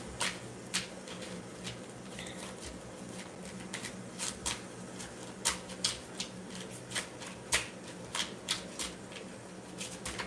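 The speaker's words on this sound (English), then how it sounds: "when I was shuffling the cards" Tarot cards are shuffled during a live reading, giving repeated soft flicks and riffling taps at an uneven pace over a low, steady background.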